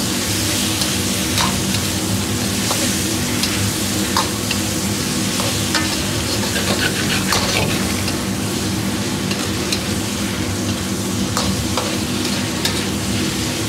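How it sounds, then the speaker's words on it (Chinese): Winter melon and pork belly stir-fried in a wok with dark soy sauce over medium-low heat, a loud, unbroken sizzle with frequent crackles and the irregular scrape of a turning spatula. "炒至大概30秒钟左右，炒至冬瓜上颜色出香味"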